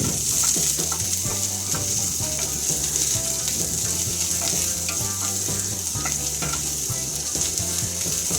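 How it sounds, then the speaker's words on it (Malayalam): Chopped onions sautéing in a pan for a Kerala-style ivy gourd and egg stir-fry, a steady close sizzle and crackle running throughout, with a continuous low background hum and no talking. "സവാള ഒന്ന് വഴറ്റിയെടുക്കണം."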